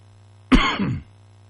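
A single rough cough blending into a short throat clearing, close and loud, in an otherwise quiet room.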